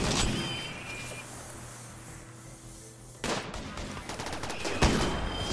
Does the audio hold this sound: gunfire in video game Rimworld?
yes